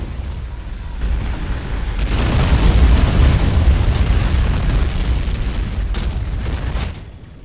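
Rockets blast in a Modern Mod combat game, giving a loud, rumbling explosion that swells and holds for several seconds before dropping away, with no talk over it.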